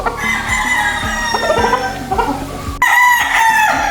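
A Kelso gamefowl rooster from a Larry Romero breeder line, white-legged, crows loudly and close with a long harmonic call, while other fowl cluck and crow around it in a busy yard.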